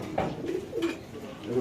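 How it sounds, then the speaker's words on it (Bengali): Baby pigeons at a pigeon market give soft, low coos in a couple of short bursts, close by, with market chatter and voices mixed underneath. "এটা বাচ্চা কবুতর।"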